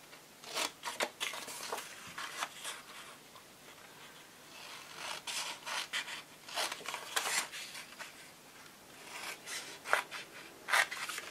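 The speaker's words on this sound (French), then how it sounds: "je vais venir couper tout le long jusqu'à la ligne de pli sans la dépasser" Scissors cut through paper card for a handmade flower box, working along to the fold line with a series of crisp, close snipping and rasping strokes, some in quick clusters, spread across the clip with short pauses between them.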